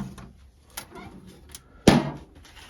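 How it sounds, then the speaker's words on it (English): Roller bearing drawers of a tool chest used for sockets, a faint smooth rolling slide followed by one sharp thud as a drawer shuts. "it's actually got roller bearing drawers"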